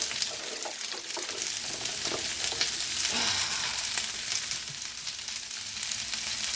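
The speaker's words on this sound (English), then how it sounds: "now we're gonna add in all the vegetables. Mixed chopped vegetables. Carrot, celery, broccoli, bok choy." Mixed chopped vegetables, carrot, celery, broccoli and bok choy, stir-frying in a crowded pan, a loud continuous sizzle with scraping and tossing noises from stirring throughout, no voices.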